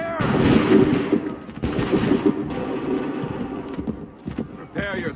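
Musket volleys in the Assassin's Creed III video game, loud cracking bursts repeated several times with horse hooves and shouting soldiers mixed in.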